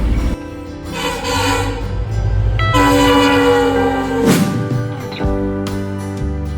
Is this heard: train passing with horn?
yes